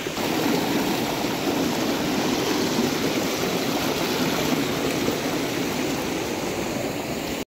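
River water flowing steadily at a crossing point, a dense, even rushing wash heard close and loud throughout with no breaks and no voices.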